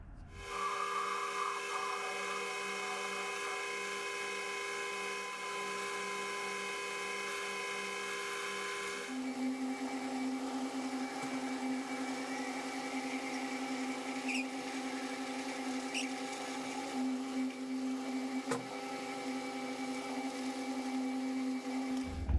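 A carbide boring bar in a boring and facing head cuts metal on a machine, giving a steady mechanical whine and hum that shifts pitch partway through and then runs on evenly, with no talk.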